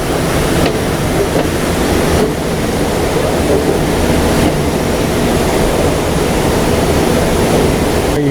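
A fabric recycling machine processing 100% cotton in a 3-to-1 water mix at about 20 RPM roars with a steady, dense wash of churning water and mechanical noise, loud and unbroken throughout.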